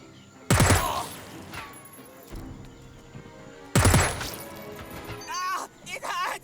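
Full-burst gunfire in the tactical game Jagged Alliance 3: two loud, dense bursts a few seconds apart, each trailing off, with a voice speaking briefly after the second burst.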